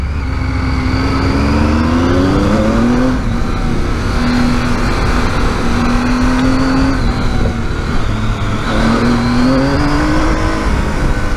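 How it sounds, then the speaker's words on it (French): A big supermoto motorcycle engine revs hard in first gear on Ardèche roads, loud and close, its pitch climbing in repeated surges with gear-held wails and brief drops, continuous engine roar throughout. "Par contre en première elle est violente si j'accélère à fond en sortie là."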